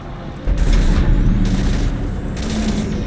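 Sustained bursts of loud automatic gunfire from the video game Mass Effect 3, coming in three heavy rattling volleys close up, with no talk over them.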